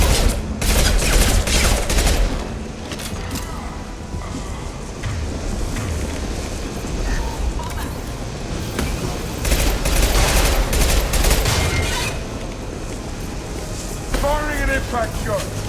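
Sci-fi gunfire and explosive blasts from the shooter game Mass Effect 2, dense bursts of shots and rumbling impacts over a battle din, with voices talking throughout.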